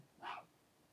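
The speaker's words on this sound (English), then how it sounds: "Now I woke up the dog." A single short dog bark, yip-like, from a dog just woken up indoors at home; one brief, fairly faint burst against a quiet room.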